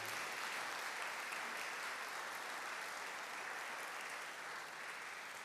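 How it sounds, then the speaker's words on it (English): Steady, dense applause from an audience at a speaking event, continuous and fairly distant throughout with no voices on top. "let's give Minister Ishmael a great round of applause"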